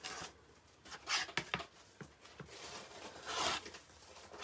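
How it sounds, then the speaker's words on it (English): Scissors cutting through a whole piece of fabric into strips for a hot water bottle cover, heard as a string of close, soft snips and rasping cuts in uneven bursts, with no talking. "so I'm just going to cut the whole piece"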